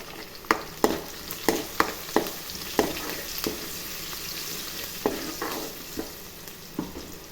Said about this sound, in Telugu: ఉల్లిగడ్డలు ఫ్రై అయిపోయాయండి.